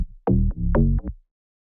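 Deep house bassline sidechained by a Nicky Romero Kickstart plugin, a synth bass whose volume ducks each quarter note, giving a short pumping phrase of a few rhythmic swells that stops abruptly, played alone.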